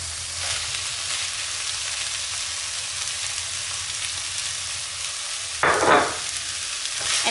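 Peas are added to a hot pan on medium heat with almost no liquid left and stirred in, giving a steady sizzle and frying hiss throughout, with a louder burst of crackling near the end.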